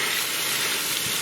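Ginger garlic paste hitting hot oil in a pan for lamb karahi, a loud, even, continuous sizzle and hiss with no pauses.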